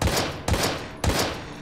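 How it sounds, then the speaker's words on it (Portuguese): Three gunshots fired in the video game Daymare 1998, loud close blasts spaced about half a second apart, each fading into a short echo. "Caraca, três tiros no vácuo"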